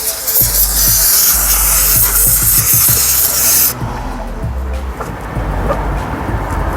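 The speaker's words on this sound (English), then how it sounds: "Steam clean." Loud hissing steam cleaner spray in the engine bay of a 2002 Mercedes A-Class dominates the first half, then cuts off abruptly, leaving quieter rumbling and clatter behind.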